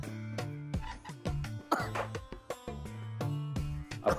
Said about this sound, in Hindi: अब खांस खांस करके यहीं जान मत दे देना